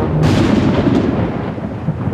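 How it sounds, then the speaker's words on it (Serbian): Cartoon thunder rolls through a thunderstorm in a Peppa Pig episode: a loud, deep crack that fades into a long, rumbling roll, heard alone without voices. "Biće oluje sa grmljavinom."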